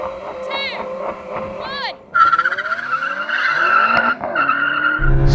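Several generations of BMW M5 launching side by side in a drag race, with rising engine roar and wheelspin squeal building loudly after a moment of revving, while a person talks over it.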